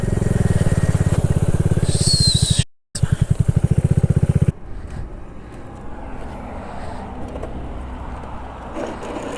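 A motorcycle limping along with its chain skipping the sprockets: a loud, close engine drone with rapid pulsing and a brief dropout, then a rougher, noisier running sound.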